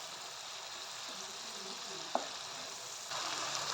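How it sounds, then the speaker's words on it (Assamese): Boiled potato pieces fry and get stirred in a kadai with softened tomatoes for aloo matar. A quiet, steady sizzle carries one sharp utensil clack midway and grows slightly louder toward the end. "আলুখিনি টুকুৰা টুকুৰকৈ কাটি লৈছিলোঁ আৰু সেইখিনি এতিয়া কেৰাহীত দি দিছোঁ আৰু পুনৰ এইখিনি ভালদৰে লৰাই মেলি ল'ম"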